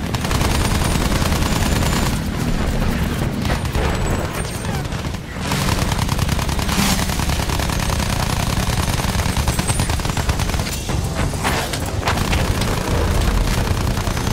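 Machine-gun fire from a plane in the video game Battlefield 1, sustained loud rattling bursts over constant engine roar and booming explosions, filling the whole stretch.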